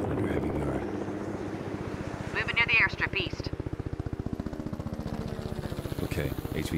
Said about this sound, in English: Helo landed.